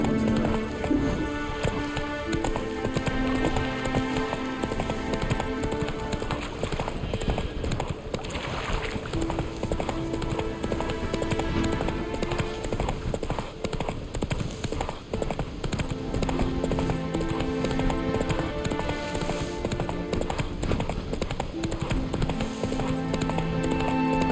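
Horse galloping in the video game The Witcher 3: Wild Hunt, a steady rapid clip-clop of hooves running on for the whole stretch under a continuous game music bed, with no talk.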